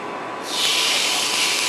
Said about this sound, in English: We're going to take our stuffed pork loin chops and add them to a medium hot skillet.